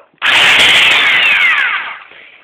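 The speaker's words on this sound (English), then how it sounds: "I've been doing it with this thing right here, the Dewalt drill." A DeWalt cordless power drill whirs loudly at high speed for nearly two seconds, then its whine drops in pitch as the motor winds down.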